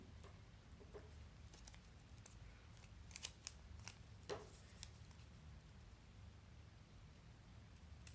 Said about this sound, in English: cut the edges of your sleeves to taper them just a little bit